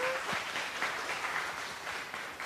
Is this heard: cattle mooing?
no